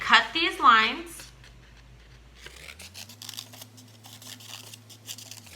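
Scissors cut lines into folded paper for a chameleon sculpture craft, soft close-up snipping and rustling after a brief burst of speech, with a steady low electrical hum underneath.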